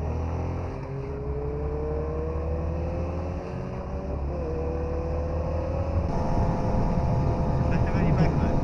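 A Yamaha XSR125 motorcycle being ridden, its engine droning steadily with rising and shifting tones as it accelerates, under wind noise, and a rider talks over it.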